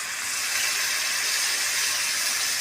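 Spice paste of Kashmiri chilli powder with a little water simmering in a pan, a steady close hiss with no breaks and no voices.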